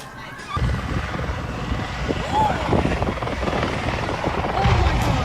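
A video game helicopter gives a loud, continuous rotor chop and engine whine that fills the clip, with people talking over it.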